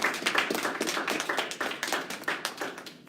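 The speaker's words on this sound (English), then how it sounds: "Round of applause for Manny" Audience applause following a student's final presentation, a dense patter of many hands clapping steadily and fairly close, fading slightly toward the end.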